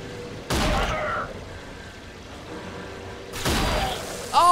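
Gunfire in the shooter Rage: two loud broadband bursts a few seconds apart, each a short volley with ringing tails, over low game ambience.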